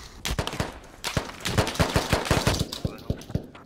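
M4 rifle fire in the military shooter game Squad, with rapid, irregular bursts of crackling shots sounding fairly close, a short pause, then more quick volleys.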